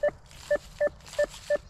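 A metal detector sounds its signal as five short, evenly spaced electronic beeps in a steady rhythm, clear and close over faint outdoor background noise.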